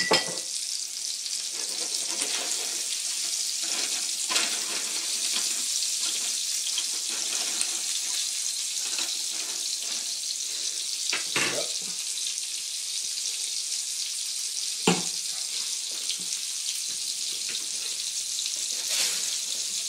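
Pork chops seasoned with Italian spices and Worcestershire sauce fry in a pan, giving a steady bright sizzle with occasional louder spits and soft clinks, close up and with no talking.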